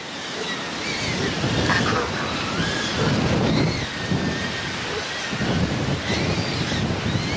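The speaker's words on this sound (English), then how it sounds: "it's crazy how much wind there is" Strong, steady wind roars and buffets a small cinewhoop drone in flight, a loud continuous broadband rush with gusty swells and a thin rising and falling motor whine running over it throughout.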